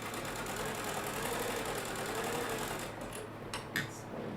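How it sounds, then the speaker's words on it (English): A sewing machine fitted with a flat foot stitches quilt pieces in a chain, a steady close mechanical whir for about three seconds before slowing and stopping with a few light clicks. "I'm using my flat foot on my sewing machine"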